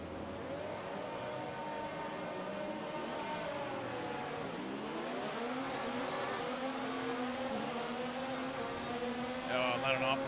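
Race cars in F1 2019 at the US Grand Prix start scream as engines rev up and shift through rising, falling pitch sweeps, several cars blending into a sustained roar with a brief squeal near the end.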